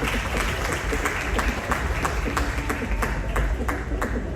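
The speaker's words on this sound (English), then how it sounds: "Let's give a big round of applause to our speaker." An audience applauds at the royal millennium excellence awards launch. Dense, loud, steady clapping carries through the whole stretch, with no voices over it.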